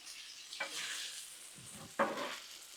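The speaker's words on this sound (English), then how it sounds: "add in all our peppers right here" Peppers hitting a hot Blackstone griddle, a soft steady sizzle with a couple of brief scraping stirs, faint and close.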